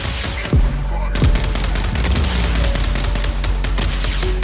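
Viper rockets fire in the Mech Arena mech combat game as a run of sharp, punchy blasts and booms, several launches landing in quick succession over a busy background of battle effects.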